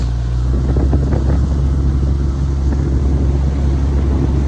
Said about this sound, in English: I'm going to start this engine up and I'm going to get back over there